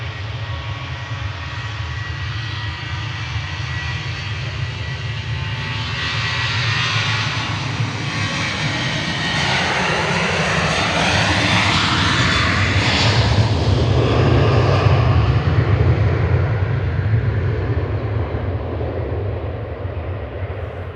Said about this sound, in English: There's a Norwegian taxiing out.